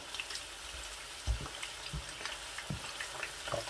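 Korean spicy chicken pieces frying gently over low heat: a soft, even sizzle punctuated by several dull knocks and scrapes of stirring, quiet and close.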